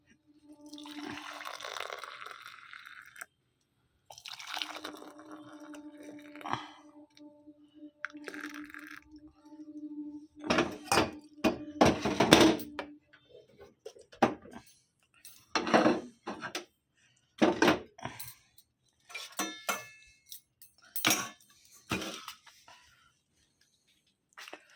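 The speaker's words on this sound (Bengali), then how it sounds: "দুধটা ফুটতে দিয়েছিলাম, হয়ে গেছে, ছেঁকে নিই" Boiled milk is strained in a home kitchen, with pouring liquid, clinks of a pot and strainer and scattered clattering of utensils, coming in separate bursts between quiet gaps at close range.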